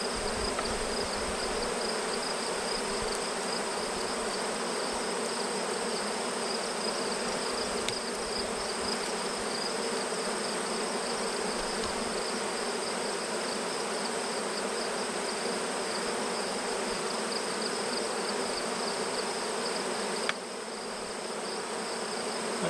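Honey bees buzz in a dense, continuous swarm drone around hive boxes while cell builder frames are transferred, steady and even throughout with no talking.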